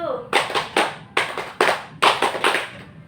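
A group claps in unison during a counting clap game in a peer group counseling session, sharp repeated claps in short bursts with brief gaps between them.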